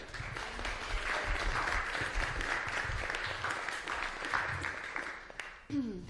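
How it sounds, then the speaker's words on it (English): A crowd at a live event gives sustained, even applause, a broad steady roar of many hands that carries on for several seconds before tapering, with a brief voice near the end. "So we get here a warm round of applause from Megan Zimring."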